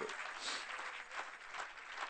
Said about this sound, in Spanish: Dale ese aplauso de alabanza al Señor.